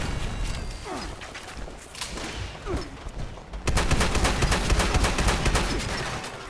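Rapid gunfire from the Fallout 76 game erupts midway, a dense, loud burst of repeated shots after a quieter stretch of scattered shots and chirpy whistles.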